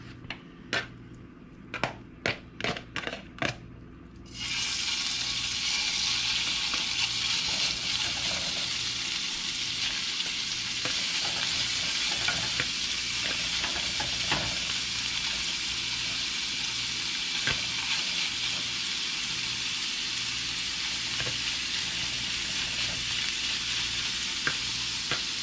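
Steak hits a hot oiled pan for Philly cheesesteak filling: a few sharp clatters, then a loud, continuous sizzle that holds steady, with faint scraping from moving the meat.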